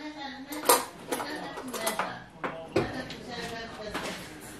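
Teaspoons and cutlery clink against dishes while baby's first solid food is measured out, making bright scattered metallic taps and scrapes close by, with someone talking throughout.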